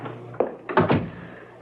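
A door in a 1970s CBS radio mystery drama swings shut, with a soft knock followed by a heavier double thunk as it closes against a quiet room hum.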